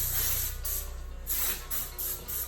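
Bursts of aerosol spray from a can during a car parts rebuild in a garage, several close hissing blasts of varying length over a steady low hum, with no talking.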